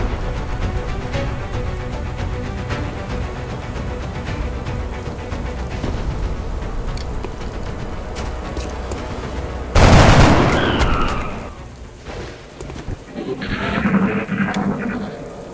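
Soldiers' weapons fire in XCOM: Enemy Unknown: a low, steady layer of game sound gives way to a single loud, sharp burst of gunfire with a short decaying tail, followed by quieter scattered effects.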